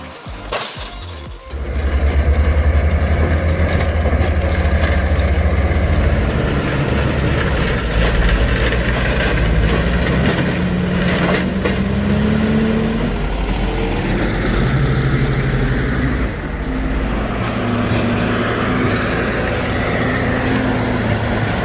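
A loud LKT forestry skidder engine labours while climbing in European woodland. A sudden start leads into a sustained heavy drone with rising and falling pitch sweeps as the machine strains uphill, plus scattered clinks and rattles.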